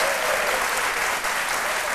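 A television studio audience claps steadily, a dense, uniform round of applause that holds at a constant level throughout with no voices over it.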